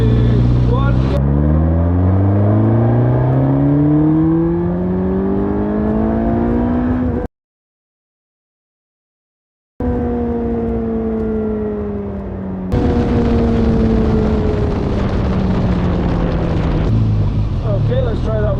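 A Suzuki GSX-S1000GT motorcycle does third-gear roll-ons, its engine note climbing loudly in pitch, then a gap of silence and another rising pull, with a voice speaking over parts of it.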